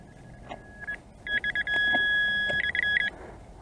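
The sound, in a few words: Nokta Fors Core metal detector signalling a big target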